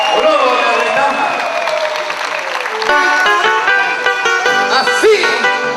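Audience at a live Ayacucho huayno performance clapping, the sustained applause blending with singing and instrumental music, loud and close throughout.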